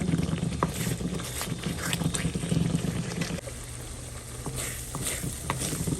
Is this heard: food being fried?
yes